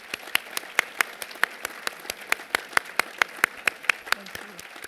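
Scattered audience applause at a lecture event at the Museum of Fine Arts, individual claps sounding in a steady, fairly sparse rhythm through the room at moderate volume, without anyone speaking over it.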